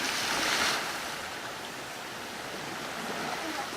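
Steady broadband rush of water at natural pools in San Jose del Guaviare, Colombia, a continuous even wash that swells slightly at first and then settles, with no voices.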